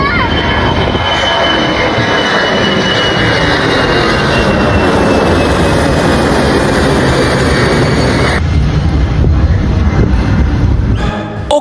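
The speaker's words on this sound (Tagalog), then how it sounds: "Unya naa na po eroplano nga nilupad." An airplane takes off at Davao airport, a loud and constant engine roar that rises and holds close by for the whole stretch, with a slight change near the end and no clear talk.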